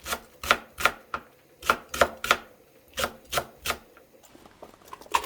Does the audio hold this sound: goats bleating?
no